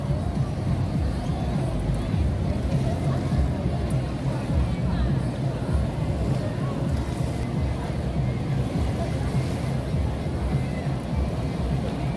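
A passenger boat moves along the river by ICONSIAM in Bangkok, its steady engine rumble and water wash continuous under crowd babble and wind.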